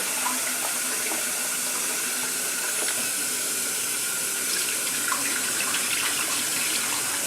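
Tap water runs steadily into a sink while red beans are rinsed, a close, constant gushing splash with light sloshing from the beans being stirred.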